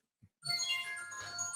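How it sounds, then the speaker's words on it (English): A loud phone ringtone bursts in after a brief soft bump, a bright sustained electronic melody with layered high tones that keeps ringing steadily to the end. "that is a loud phone ring"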